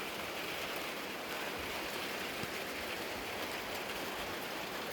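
Steady rain falls outdoors, a dense continuous hiss of drops on surfaces with faint scattered patters, unbroken and even in level throughout.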